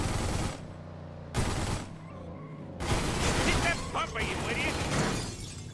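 Gunfire at a car in The Godfather video game, loud bursts of rapid shots with shattering glass and impacts, broken by short pauses, mixed with someone talking excitedly.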